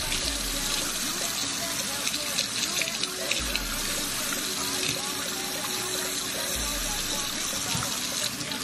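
Water runs continuously while washed hair in high-top dreadlocks is rinsed, a loud, steady gushing spray that stays close for the whole stretch, with faint low thumps underneath.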